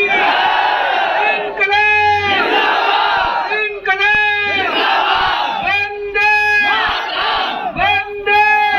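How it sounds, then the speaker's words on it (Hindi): A huge crowd roars and cheers at Arvind Kejriwal's political rally in Singrauli, loud massed yelling that surges in repeated waves of battle cries and whoops, with mic feedback tones ringing through, sustained for the whole stretch. "बेतहाशा उमड़े जनसैलाब ने केजरीवाल को खुश कर दिया"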